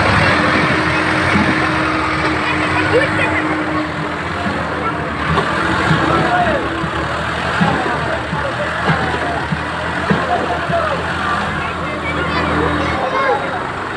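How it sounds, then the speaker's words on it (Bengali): A tractor engine labours while pulling another tractor out of a rain-filled pit in front of a school, rumbling steadily with people talking over it throughout. "একটি ট্রাক্টর গর্তে নেমে গেছে এবং সেই ট্রাক্টর থেকে আর একটি ট্রাক্টর তোলার চেষ্টা করছে"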